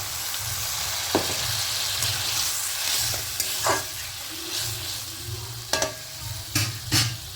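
Water poured into a hot pan of spices, mustard and green chilli for a Bengali fish tel jhal with brinjal, giving a steady close sizzle and bubbling with a few sharper clinks of stirring.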